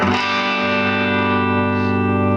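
A sustained, heavily distorted electric guitar chord rings out loud and thick, starting with a sharp strum and holding steadily, no voices.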